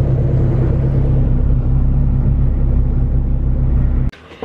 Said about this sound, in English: Mark's leaving with the FRS